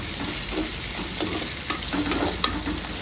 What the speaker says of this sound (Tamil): தக்காளி சேர்த்து நல்லா வதக்கலாங்க.